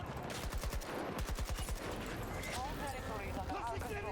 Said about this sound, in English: Now we're going full auto again.